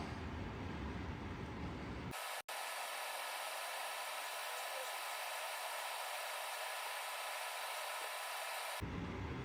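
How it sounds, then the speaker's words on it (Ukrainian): A steady, broadband whooshing hum of a Termia 3 kW, 230 V electric fan heater runs continuously, with a brief click midway and quieter gaps at the start and end. "Достатньо тихо працює вентилятор"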